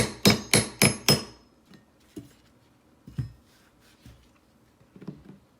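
A hammer taps laminate floor planks into place: four loud, sharp, closely spaced strikes ring out, followed by scattered softer knocks and taps.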